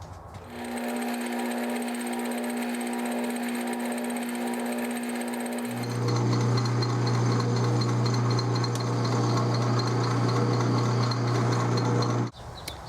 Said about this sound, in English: we're cutting 28 threads per inch